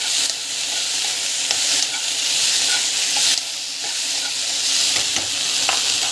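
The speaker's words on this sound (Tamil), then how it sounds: "ஸோ வெண்டைக்காய் வந்து இந்த மாதிரி வறுத்துக்கணும்." Okra sautés in oil in a pan, a constant close sizzle and hiss with soft scraping from stirring repeating throughout, and no voices over it.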